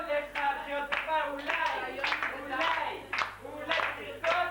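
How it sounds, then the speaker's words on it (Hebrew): At a 95th birthday party for a grandmother in 1990, guests clap along to a Hebrew children's song about a little clown. Steady rhythmic handclaps blend with voices singing together. "הנה, אתם כולכם במחיאות כפיים"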